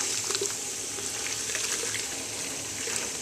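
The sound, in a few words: water being poured onto ground coffee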